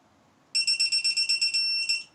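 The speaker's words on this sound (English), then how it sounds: "It'll start beeping. And you'll get several, several beeps before it get there until you get a solid beep, and that's when it's done." A digital torque wrench, set to 15 foot-pounds on a 7.0 L LSX short-block build, gives a quick run of about nine sharp, evenly spaced beeps and then a longer solid tone, clear and close against a quiet room.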